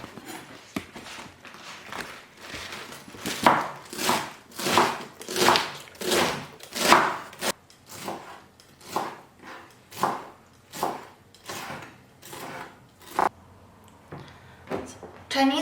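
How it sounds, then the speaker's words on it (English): A knife chops Chinese leaves into small pieces on a board, a series of crisp, evenly spaced cuts in a fast, steady rhythm, close and clear with no talk. "I'm going to cut Chinese leaves to small pieces now"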